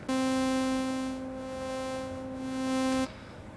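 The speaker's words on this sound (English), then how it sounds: "it will, with ring modulation, multiply the saw with my now selected sine." A sustained, buzzy synthesizer tone from a saw wave ring-modulated by a sine, with a metallic, bell-like ring, holds steady for about three seconds, its brightness wavering slightly, then stops abruptly.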